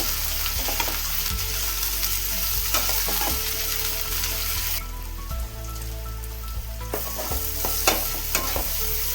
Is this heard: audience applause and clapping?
no